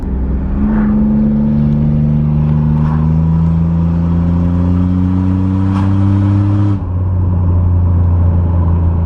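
A modified minivan engine revs hard from a standstill, its loud, steady droning note rising in pitch over several seconds, with sharp backfire pops crackling over the top before the revs drop near the end.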